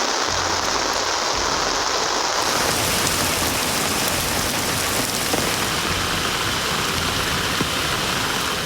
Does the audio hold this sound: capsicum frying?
no